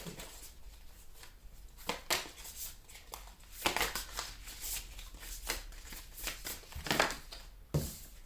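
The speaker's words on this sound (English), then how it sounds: "These cards are so hard to shuffle because of how they're shaped." Tarot cards being shuffled by hand, their odd shape making it awkward, giving repeated crisp riffling bursts and soft papery slides close up, fairly quiet with no voice over them.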